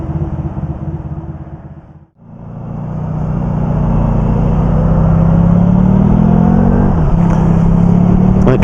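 Motorcycle on a wet road accelerating smoothly: the engine note drops away, pauses briefly as the throttle comes off, then rises again in a loud, steady, climbing drone with wind rush.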